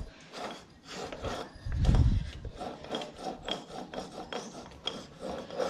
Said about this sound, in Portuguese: Aqui só o barulhinho do pistão mesmo, na saia aqui.